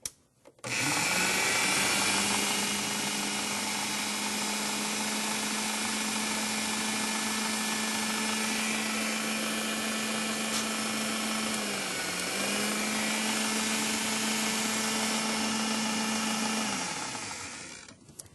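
A countertop blender purees seasonings, coriander and honey for a spaghetti squash primavera sauce, running as a loud steady whir for about sixteen seconds with a brief dip in pitch midway, then winding down.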